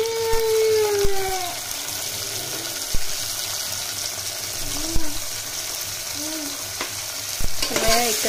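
Chopped tomato being stirred into golden fried onion in a pan for soybean khichdi, with steady sizzling broken by repeated spoon scrapes and clanks, close and fairly loud, no talking.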